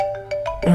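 A phone's ringtone plays a short melodic phrase of repeated tonal notes, fairly loud and close, with a denser burst of sound rising at the end; no one speaks.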